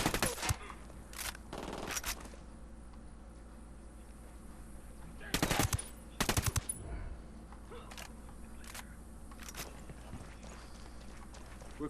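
Gunfire in the video game Ghost Recon Wildlands: sharp, loud shots arrive in scattered single bursts and tight clusters of rapid fire, separated by quieter stretches over a steady low background rumble.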